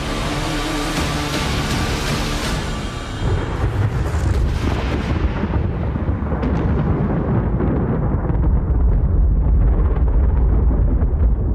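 A huge, sustained atomic bomb blast effect, a loud continuous low roar and rumble that rolls on for many seconds with deep booming energy and no voices over it.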